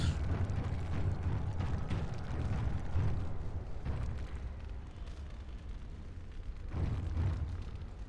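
Rumbling booms and bursts from the Dragon Age: Origins video game roll through the whole stretch, with heavy low-end blasts around three, four and seven seconds over a continuous churning din.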